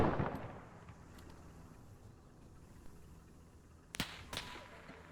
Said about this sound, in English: Hearing the cannons firing again.